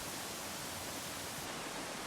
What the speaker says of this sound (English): This canyon leads up to the Wailing Widow waterfall,